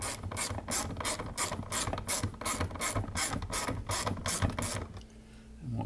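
Ratchet wrench clicking new Torx fasteners into a diesel FICM power supply, a steady run of rapid close mechanical clicks in short bursts before stopping near the end.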